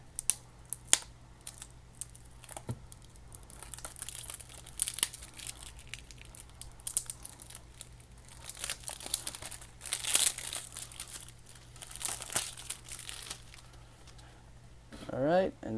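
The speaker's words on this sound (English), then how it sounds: "So now we got our knife. We just cut through the plastic." A knife slits and peels the plastic wrap on a Splatoon 2 Nintendo Switch game box, producing close, crinkly tearing and rustling bursts, with a person talking throughout.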